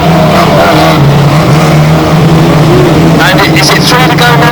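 A racing car engine roars loudly and steadily at Bovingdon Raceway, close by and sustained, rising in pitch near the end, with a race commentator talking over it.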